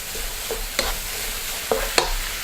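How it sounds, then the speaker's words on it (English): Leeks stirred in a frying pan give soft scraping clinks at a steady pace, with a few sharper utensil knocks over a faint, constant sizzle, close and alone. "add the leeks, stir well"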